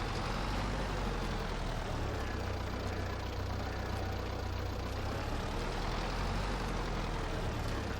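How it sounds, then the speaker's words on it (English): A small tractor carrying a heavy bucket in Farming Simulator 22 drones with a steady, loud, continuous engine rumble that stays even throughout, with no pauses and no talk. "a tractor this small I wouldn't expect could handle a bucket this heavy as good as it's doing"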